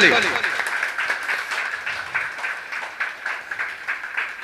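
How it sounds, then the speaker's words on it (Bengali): An audience applauds an actor at a jatra troupe's mahurat ceremony, with a steady, rhythmic patter of clapping hands under a speaking voice, moderately loud and continuing throughout. "জোরদার হাততালি"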